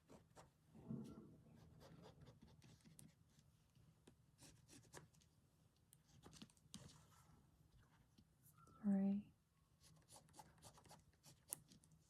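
A pen drawing circles on paper to mark a bird stitching pattern, quiet scratchy strokes scattered through the stretch, with a louder rubbing burst near the end.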